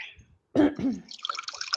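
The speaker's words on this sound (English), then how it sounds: "So I'm going to pour this for you." A drink is poured into a cup, a short splashing, trickling fill that turns to a fizzy, bubbly hiss, close and moderately loud.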